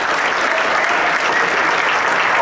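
An audience claps for trumpet player Andrew King at a school jazz band concert, a dense, steady wash of applause from a crowd, loud and close throughout without a break.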